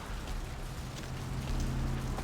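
Steady rain pours in the video game Vampire the Masquerade: Bloodlines, a dense, constant hiss of drops on surfaces with a low rumble underneath, heard alone without voices.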